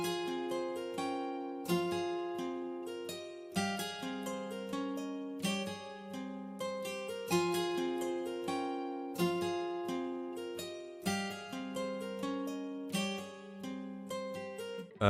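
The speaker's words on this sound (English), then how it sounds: "this is how the finished guitar pattern sounds like" A plucked acoustic guitar plays a repeating melodic pattern, steady and rhythmic, close and clean with no voices.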